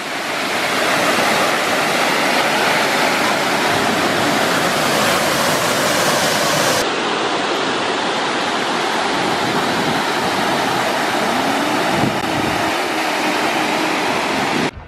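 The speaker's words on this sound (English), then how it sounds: "Artificial waterfall." An artificial waterfall at a safari park in Dubai roars in a steady, loud, broadband rush of falling water, continuous throughout with no talking.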